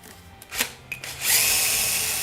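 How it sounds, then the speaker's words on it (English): A few handling clicks, then a power drill with a 3mm masonry bit spins up and runs at a steady high whine, drilling into tiles without percussion, close and loud. "So I'm just going to drill in on the sides."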